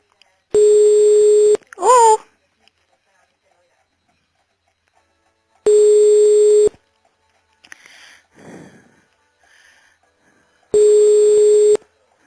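A telephone line gives three long, loud, even beeps spaced several seconds apart, with short voice sounds and small noises in the quiet gaps between them.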